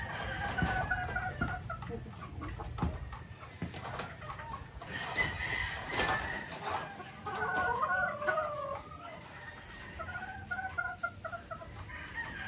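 Golden Boy Sweater chicken pullets cluck and chatter close by on a game farm, with scattered higher calls over a busy, continuous background of fowl sounds.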